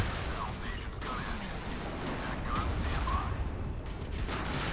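Warship gunfire rumbles in the naval combat game Modern Warships, a dense barrage of booming shots and explosions layered into a continuous roar, with game effects on top.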